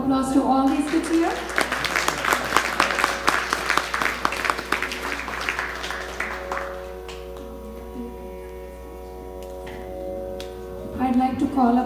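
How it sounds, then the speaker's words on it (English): Audience at a youth fundraiser concert by a music academy claps in a sustained burst of applause during the first half, fading out, with a voice speaking over it and bits of instrument tones underneath. "Another huge round of applause to all these kids here."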